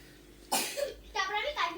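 Two or three short, sharp coughs close up in a quiet room, with a fan running in the background.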